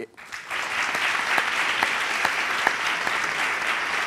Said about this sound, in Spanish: aplauso triste. Aplauso triste, aplauso triste.